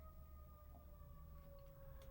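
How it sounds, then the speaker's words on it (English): A distant siren wails in the background, a faint steady tone holding over a low hum for the whole short stretch. "a siren, I don't know if you can hear it, it's going off in the background"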